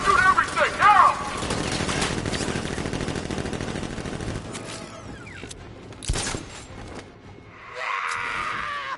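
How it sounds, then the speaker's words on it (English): Heavy gunfire in Batman: Arkham Knight on PS4, a sustained, dense rattle of shots and clattering impacts lasting several seconds, with voices heard among the commotion. "Open fire! Shoot everything, now!"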